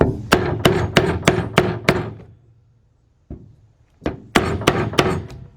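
A hammer strikes a part during oil pan removal on a 2005 Cadillac CTS 3.6 engine: a burst of sharp metallic strikes in quick succession, a pause with one lone hit, then another rapid series of loud blows, close by.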